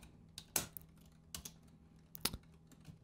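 Computer keyboard keys tapped while writing code, a few sharp separate clicks spaced irregularly over a quiet background, close and distinct with no talking.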